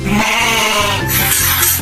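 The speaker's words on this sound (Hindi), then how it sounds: "बकरी कैसे बोलती है?" A goat bleats loudly and close up, one sustained wavering call that shifts pitch partway through, with no other sound around it.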